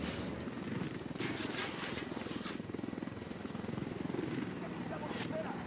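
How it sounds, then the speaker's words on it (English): A helicopter in the game Ghost Recon Wildlands hums with a steady rotor drone under loud, frequent talk between players. "these helicopters are so weird"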